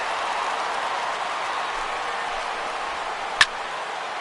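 A large ballpark crowd of over 37,000 in MLB The Show 16 roars in a steady, broad wash of cheering and applause, with a single sharp click near the end.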